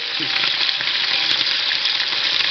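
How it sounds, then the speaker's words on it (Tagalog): Chicken curry ingredients fry in a pan with a close, continuous crackling sizzle and small spattering pops, while a utensil stirs them now and then. "Piprito natin ng konti."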